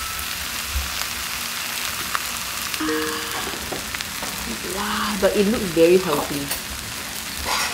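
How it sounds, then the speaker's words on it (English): Korean dish sizzling and frying in a hot stone pot at a traditional market, a steady close crackle with stirring scrapes, while people talk over it. "You can hear that it's like sizzling."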